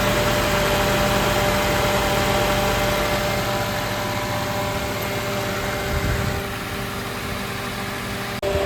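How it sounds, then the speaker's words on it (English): A 2006 Toyota Corolla idles with its radiator fan running, a steady close whirring drone with engine hum beneath that holds throughout and eases slightly near the end. "Then you should hear your fan click on right away."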